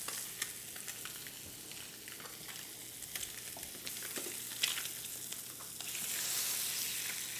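Halibut sears in butter in a hot pan, giving a steady close sizzle with small crackles and pops throughout, no voices.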